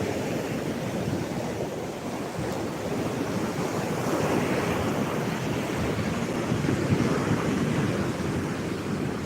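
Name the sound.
waves and wind on a large Gulf beach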